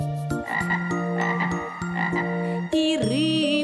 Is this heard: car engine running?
no